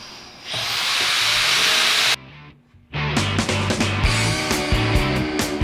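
Metal mounting brackets for the AC and radiator on a K20-swapped EK Civic are cut out, starting as a loud, steady hiss, then a short pause, then harsher rattling cutting noise close by.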